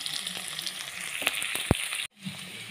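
Potatoes and onions frying in a pan give a steady close sizzle with a few stirring knocks, then a brief drop to near silence before the sizzle returns.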